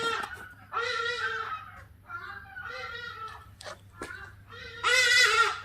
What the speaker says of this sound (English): Bloody noisy birds.